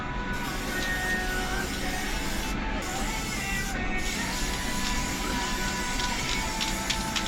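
Steady broadband hiss of an aerosol spraying red oxide anti-rust paint onto iron pipework, continuous and close throughout with brief pauses near the start, no talking.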